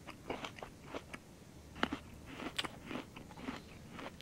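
A character eats fish in the video game Xsyon, with a series of crisp, close bites and crunchy chewing sounds repeating at an uneven rhythm against a quiet background.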